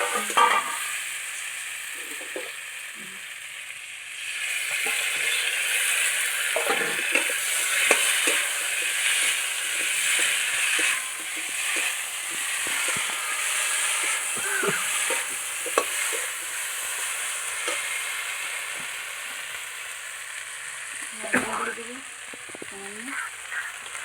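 Potato and green banana pieces fry in a pan with spices, giving a steady loud sizzle broken by repeated scraping stirs and clinks throughout, with no talking.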